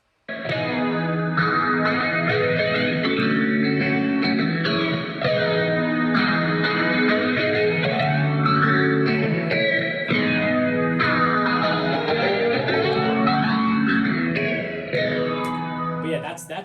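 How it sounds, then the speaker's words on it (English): An electric guitar plays chords and melodic lines through a sweeping, swirling flanger effect, continuous and fairly loud. "the little interlude jam with the flanger pedal, it just sort of has a more of a liquid sound to it"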